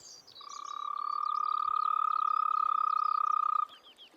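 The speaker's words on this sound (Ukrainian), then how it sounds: "Жаби-ропухи вже прокинулись і квакають у ставках." A toad gives one long, steady, high trill lasting several seconds from a pond in May, close and loud, with faint bird chirps in the background.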